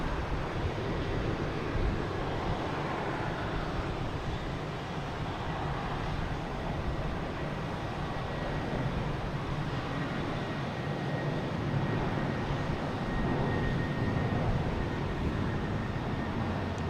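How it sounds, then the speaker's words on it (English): A jet airplane takes off from a runway at Boston Logan Airport with a broad, steady engine roar held at a distance for the whole stretch, slowly swelling and never fading away. "It's getting over to the runway now. Should be taking off any second."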